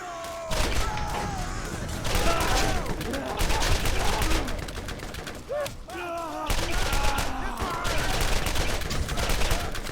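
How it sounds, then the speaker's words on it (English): Rapid gunfire in the video game Borderlands, dense bursts of automatic shots and thuds continuing for several seconds with brief pauses, loud and close. "I wish I could see where I was shooting."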